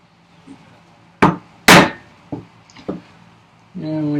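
A chisel chops wood while vise chops are shaped for a workbench, two or three sharp close strikes followed by lighter taps and knocks, and a voice comes in at the end.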